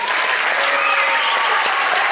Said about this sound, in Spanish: Un aplaudiment per a ells.